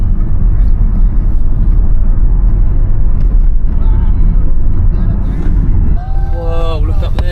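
A car drives through a dark mountain tunnel on the road to Milford Sound, New Zealand, its loud steady engine and road roar filling the space throughout, with excited voices breaking in near the end.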